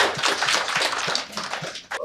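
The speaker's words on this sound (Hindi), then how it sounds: "ताली बजा दीजिए भाई" Audience applause at a comedy show, a continuous close patter of many hands clapping that holds steady for about two seconds, with no voices over it.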